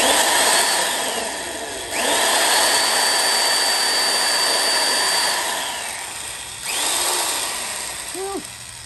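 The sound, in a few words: vintage electric drill running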